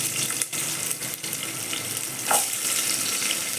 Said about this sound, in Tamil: இப்போ சின்ன வெங்காயத்தை சேர்த்துக்கலாம்.